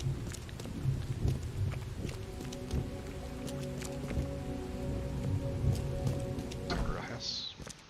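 Steady rain hiss in the horror video game The Sinking City, a continuous wash of falling water with scattered drop ticks and low ambient game sounds underneath, holding even throughout.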